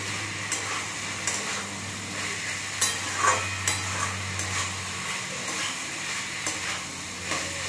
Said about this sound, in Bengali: এবারে আমি এর মতো পনিরগুলো দেবো, ভাজা পনির একসাথে ভাজবো